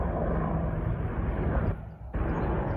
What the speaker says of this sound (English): Look like military helicopters, I don't know.